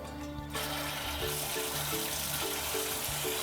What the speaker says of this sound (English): So let that water run a little bit so that gets hot